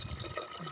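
Water pours steadily into a bucket, a short continuous splashing fill at moderate volume with no talk over it.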